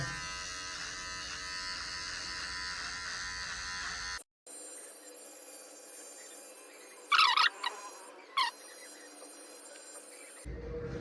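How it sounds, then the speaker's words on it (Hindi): Steady buzzing hum of an electric beard trimmer running close by, with a brief cutoff midway and short higher squeals as it catches hair. "मैं सोच रहा हूँ अपने आप से ट्रिमर कर लेता हूँ"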